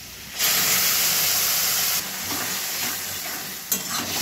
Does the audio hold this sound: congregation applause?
no